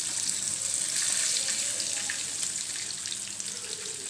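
Fish for fish karahi sizzles in hot oil, a loud, constant close-up hiss with fine crackling and no breaks, with no voices.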